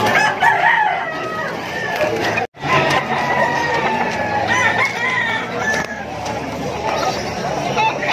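Roosters crow repeatedly amid a busy poultry market in Malabon with many sellers, the crowing and clucking loud and close over a constant din of crowd chatter, with people talking nearby.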